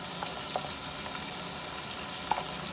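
Ginger, onion paste, garlic, turmeric and ground chili sizzle and fry steadily in a pan while being stirred, a continuous close crackle with a few scraping clicks, no talking.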